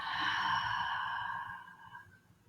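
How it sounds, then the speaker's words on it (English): A long, slow exhale out through the mouth during a gentle yoga relaxation, a soft breathy whoosh that starts full and gradually fades away, close and alone without talk. "And exhale out through the mouth."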